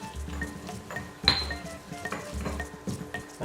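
Herbs and stalks tossed together in a kitchen bowl for a sardine tagine, with close clinks and light scrapes of a utensil against the bowl repeating irregularly, one sharper ping partway through.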